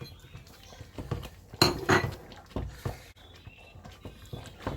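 A spoon scraping and knocking against a pan while thickening semolina pudding (suji ka halwa) is stirred, with irregular close clinks and scrapes through a few seconds and no talk.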